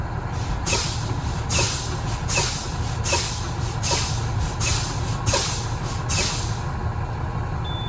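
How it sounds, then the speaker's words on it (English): A truck cab during a pre-trip inspection with air pressure lowered to 60 psi, where a steady low air pressure warning buzzer drones under a series of seven evenly spaced, loud air brake hisses. "Now I'm gonna set it down to 60 psi so the warning light and buzzer comes on."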